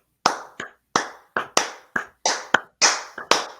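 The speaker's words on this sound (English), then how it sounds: "Joe, you want to give me a slow clap for him?" A single person's slow clap, about a dozen separate hand claps spaced unevenly, close and crisp with clear gaps between them and no talking.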